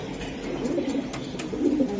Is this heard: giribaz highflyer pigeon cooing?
yes